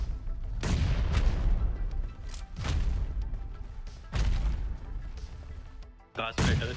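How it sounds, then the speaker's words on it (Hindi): A grenade blast in the mobile battle-royale game PUBG Mobile, heard as a few heavy booming bursts spread through the clip, loud and close, with a voice talking over the gameplay. "फिलहाल सामने ही बंदा, मैंने ग्रेनेड फेंका।"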